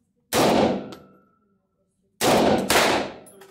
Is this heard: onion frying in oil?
no